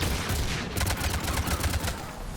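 Rapid gunfire in the video game Mass Effect 3, a steady run of close, loud automatic shots rattling over a low rumbling background.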